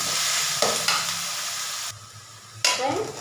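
Onions with ginger garlic paste sauté in hot oil for a chicken masala, giving a close, loud sizzle broken by a few sharp bursts of stirring and scraping in the pan.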